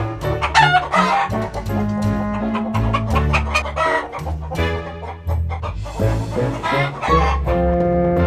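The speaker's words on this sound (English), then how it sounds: "And your chickens." Toy chickens clucking and a rooster crowing in a Thomas train toy play scene, layered over busy music with dense harmonic tones throughout, loud and continuous.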